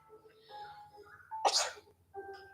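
A single sharp sneeze bursts out between quiet stretches of low voices, loud and close.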